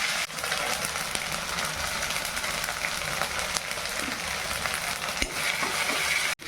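A ground paste of ginger, cumin, onion and green chili frying in a pan, a loud dense continuous sizzle with a few stirring knocks, close and alone without speech.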